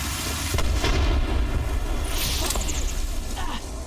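A frag grenade explodes in the Apex Legends shooter game with a loud, deep boom and rumbling blast that tails off, mixed with game sound effects.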